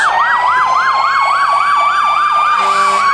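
A loud, close Manchester Fire Department fire truck siren wailing in fast, regular rising-and-falling sweeps, with no talking.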